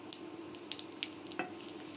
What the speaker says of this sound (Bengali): আস্তা জিরা দিয়ে দিলাম